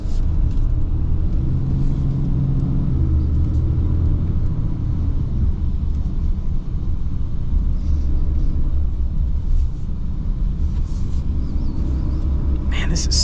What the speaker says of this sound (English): the Cummins is by far the rowdiest diesel out of the bunch, the sound isn't bad